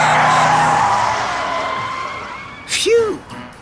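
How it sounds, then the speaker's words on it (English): Brakes and a skid in a Looney Tunes road-trip video game: a long tire screech sliding beneath cartoon voices, then a short sharp squeal near the end. "Time to hit the brakes."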